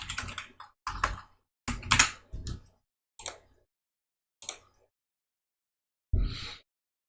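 Number keys on a computer keyboard tapped during a Java programming lesson, heard as separate clusters of quick, crisp clicks with short silent gaps and a final single press.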